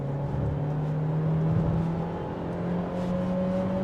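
A Renault Koleos 1.3 TCe SUV accelerates at full throttle, with a steady engine drone and whine rising gradually in pitch, heard from inside the cabin at moderate loudness with no talking.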